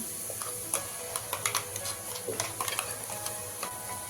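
Masala spices frying and stirred in a pan for Maharashtrian chicken kharda: a steady close sizzle broken by irregular scraping taps of a spoon against the pan, with no talking.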